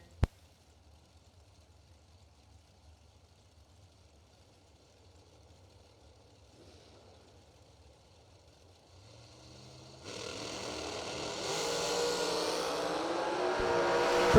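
Drag race cars at a racetrack start with a faint low idle, then the engines roar in loud and sustained over the last few seconds, the noise building and getting closer, no talk.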